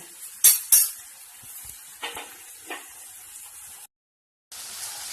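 Kashmiri chili and spices fry in oil for mutton biryani, with a faint steady sizzle under a few sharp metal clinks and scrapes of a stirring spoon against the pot, then a brief silence before the sizzle resumes.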